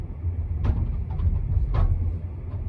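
A 2019 Mazda3 with a 2.5-litre four-cylinder rolls over a railroad crossing, steady low road rumble broken by two sharp thumps about a second apart as the wheels hit the rails.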